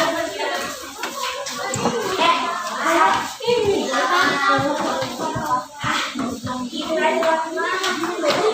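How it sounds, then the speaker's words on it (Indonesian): A classroom of students clapping for their classmates, a busy patter of hands mixed with children's chatter and voices throughout. "tepuk tangan buat semuanya"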